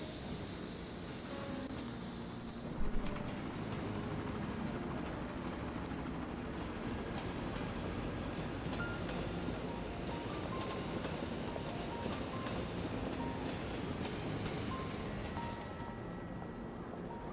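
An intercity train passes in the city-building game Cities: Skylines, a faint, steady rolling rumble of rail traffic that runs evenly throughout, with one brief clunk near the start.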